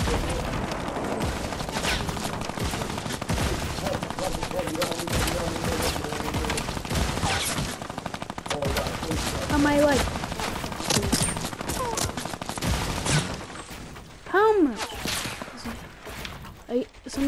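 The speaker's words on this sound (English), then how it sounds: "Somebody tried to snipe me." Rapid gunfire in a Fortnite match, including sniper shots, crackling near-continuous bursts at moderate level under the players' conversation.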